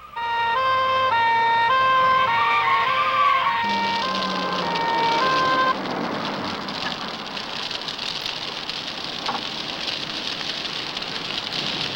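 A Land Rover fire engine's two-tone siren wails loudly at first, then drops away abruptly, leaving a dense hiss of engine and road noise under low ceilings.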